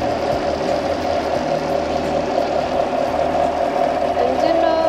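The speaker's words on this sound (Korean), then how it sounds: "엔진 소리 일정하고 좋습니다" A Chevrolet Camaro SS with a 6.2-litre V8 idles steadily with the hood open, a continuous low engine drone at close range with a faint mechanical ticking running through it.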